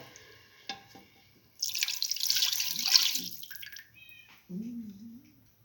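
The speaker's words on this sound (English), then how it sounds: "Pour in 200 ml of water." Water splashes and trickles for a couple of seconds as 200 ml is poured into a pot, a short steady pour in the middle, with a few clinks and drips around it.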